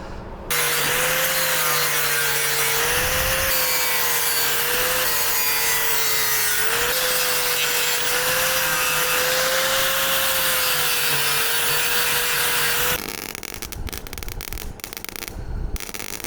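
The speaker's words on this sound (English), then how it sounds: "So I'll grind that back as well with the flap wheel" An abrasive flap wheel grinds back repair metal on the scuttle of an MGB car body, a steady loud whining rasp sustained for about twelve seconds before cutting off into scattered clatter.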